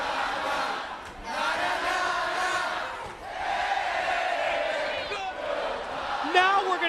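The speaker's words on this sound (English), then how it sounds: "Listen, the crowd send on Scott Steiner, and he can't believe it." Wrestling arena crowd at a TNA Hard Justice 2006 NWA World Championship event roars and cheers in loud, sustained swells that dip briefly and surge again.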